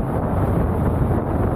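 Wind rushes steadily past the microphone while riding a custom 72V Kepler electric vehicle, a loud, constant roar with no motor noise audible.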